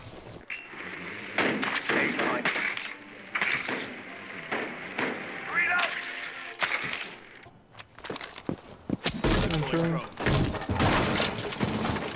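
Gunfire in a ranked multiplayer shooter game, sharp bursts of shots scattered through the stretch and clustering densely toward the end, mixed with players talking.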